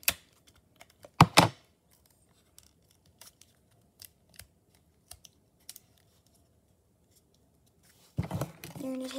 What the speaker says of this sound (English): You're going to tape it all over the line.